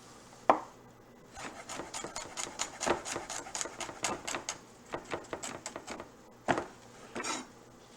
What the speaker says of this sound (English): I'm going to go ahead and prep the garlic